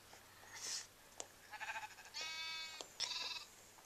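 Faint sheep bleats from the video game Minecraft repeat in short separate calls, one a longer wavering bleat, over a quiet background hiss.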